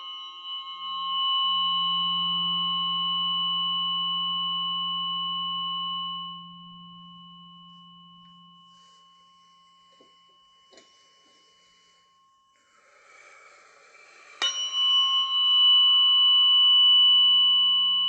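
A tuning fork rings out in a pure, sustained tone at a sound-healing session, humming steadily for several seconds, fading, then struck again with a bright onset and ringing on, close and clear.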